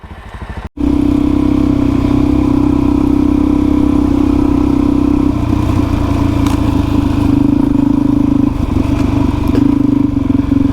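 A motorcycle engine, a DRZ400E or Tenere 700, drones loud and close along a rocky 4WD track through hills and riverbed, holding a steady note with small clattering bumps after a brief cut at the start.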